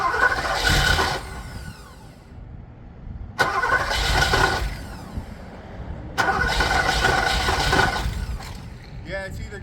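1980 Porsche 928 engine cranking on the starter in three separate attempts, each a rough churning burst of a couple of seconds separated by silence, with a voice speaking briefly near the end.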